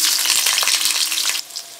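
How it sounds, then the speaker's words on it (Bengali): Potatoes frying in mustard oil in a wok, a loud steady sizzle with a few stirring clatters that drops quieter near the end, with no voices. "প্রথমে আমি আলুগুলো ভেজে নেব"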